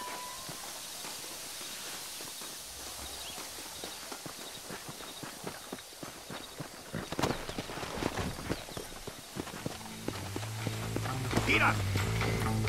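Horse hooves in the video game Red Dead Redemption clip-clopping steadily over a hard surface amid ambient noise, growing busier and louder toward the end.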